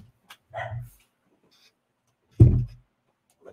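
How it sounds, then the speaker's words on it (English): A dog barks excitedly indoors, two loud close bursts of barking about two seconds apart, with nobody talking. "My daggone dog up in here going crazy."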